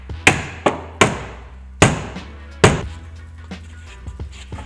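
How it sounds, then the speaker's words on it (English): Sharp hammer blows on the sheet-metal transmission tunnel of a Nissan S14 chassis being reworked for a swap, five or six ringing strikes at irregular intervals, with faint taps trailing after them and no voices. "I'm pretty sure that is the transmission tunnel hammering finished."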